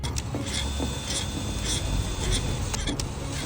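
A metal action-figure body, an Akedo Warriors figure customised as an Iron Man Mark I, is ground down with a steady rasping, rubbing noise broken by short bursts, close and continuous.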